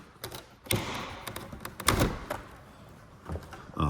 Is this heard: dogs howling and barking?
no